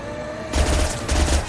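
Gunfire from the Mass Effect 2 video game bursts out as a rapid, dense volley, loud and close after a quieter opening moment, with no talk over it.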